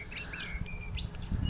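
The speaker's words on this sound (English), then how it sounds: "As you can hear, it's birds twittering in the background." Birds twitter and chirp outdoors in a quiet, peaceful rural spot beside a fenced self-supporting communications tower, with short bright calls and a few longer whistled notes over a soft, steady background hush.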